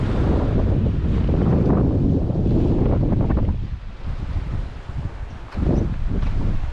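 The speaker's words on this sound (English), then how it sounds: "But this bloody wind, it's really bugging me." Strong wind buffeting a microphone at a fishing spot, a loud constant low rumble that eases briefly before gusting back, with no voices.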